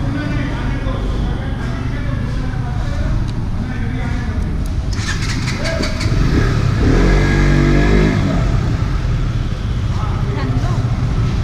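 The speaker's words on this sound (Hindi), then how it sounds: "तो अब यहाँ पे हम लोग करेंगे बाइक में रेविंग।" A motorcycle engine revs loudly in a cramped spot, running steadily and surging harder in a strong burst of revving about two-thirds of the way through.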